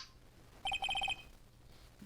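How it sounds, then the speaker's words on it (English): A phone ringtone in the video game Phoenix Wright Justice for All plays a quick burst of bright electronic beeps, two short tones then a rapid run of five, clear and alone over a faint background. "Why is my phone with the stupid sounding ringtone?"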